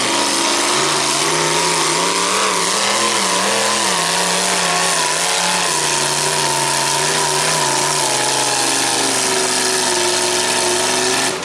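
A loud, heavy pulling tractor engine roars continuously at a tractor pull event, its pitch rising and falling as it revs and strains, then settling into a steadier drone toward the end.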